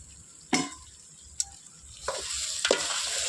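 Masala spice powder frying in hot oil in a pan for vathal kuzhambu, with a soft steady sizzle and a few distinct scrapes and knocks of a spoon stirring it.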